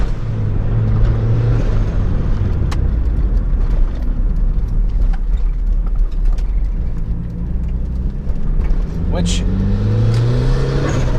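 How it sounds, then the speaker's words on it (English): A turbocharged Mazda Miata runs with a steady engine drone, and its HKS blow-off valve releases a brief hissing whoosh late on; a voice speaks briefly over the car. "the guy that built this car used a HKS blow-off valve that sounds absolutely great"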